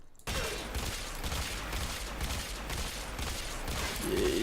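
Rapid continuous gunfire from the Batacore weapon in the game Warframe hits a level 160 heavy gunner, a dense loud stream of shots with rhythmic pulses running nearly throughout, with no talk.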